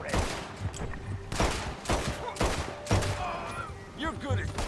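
Gunfire in Red Dead Redemption 2, with several sharp, loud shots and bursts in an irregular volley and game voices speaking between them.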